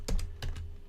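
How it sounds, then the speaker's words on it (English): Keys on a computer keyboard clack in four quick, close taps during web form entry. The taps come in two pairs separated by a short pause and sound alone against a faint background hum. "And I can start typing"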